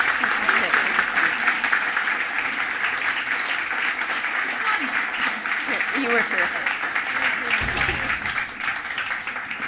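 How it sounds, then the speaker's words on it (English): Sustained audience applause after a book talk on papyrus and ancient books, a dense, steady wash of clapping filling the room while a voice speaks briefly over it. "Could we have another round of applause?"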